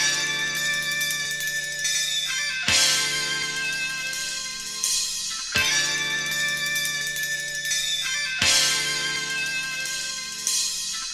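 Chopped, pitched-up sample with a high-pass filter removing its kick drum, forming the backdrop of a hip-hop beat; a bright, dense loop restarts with a sharp hit about every three seconds, steady and alone.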